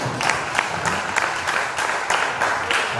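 A church congregation applauding the Lord in worship, with steady, dense clapping from a crowd that pulses in a regular rhythm and stays loud throughout.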